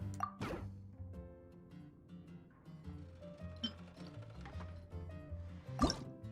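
Liquid pours into a glass in the Genshin Impact bartending event, a video game: short, bright splashing bursts and drips, some louder, with soft game music underneath.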